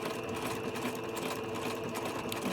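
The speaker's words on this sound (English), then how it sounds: "So I'm stitching all the way close to the end, and then I'm gonna back stitch." A sewing machine runs continuously while stitching tulle for a tutu, a steady loud mechanical whir and rattle of the needle with no pauses and no voices.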